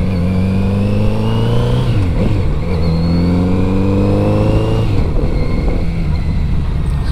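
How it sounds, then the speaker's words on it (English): A Kawasaki Z900RS motorcycle engine drones loudly and steadily up close, its pitch dipping and rising again with a throaty exhaust and intake whoosh. "it's not just the sound of the exhaust that's great on this bike, it's also that intake noise"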